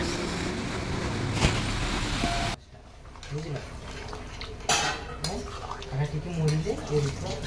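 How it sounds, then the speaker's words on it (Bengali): Soya chilli being stirred in a pan with water added, a metal spoon scraping and clinking against the cookware in short irregular strokes, close and moderately loud, while a person talks. "আবার একটু নাড়াচাড়া করে আরও খানিকটা জল দিব"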